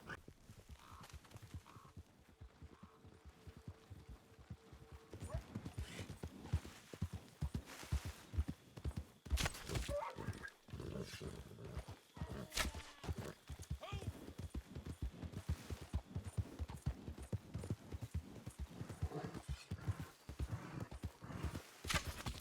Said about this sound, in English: using a bow to hunt on horseback can be a lot tougher due to the bobbing up and down of the deer I'm chasing and the horse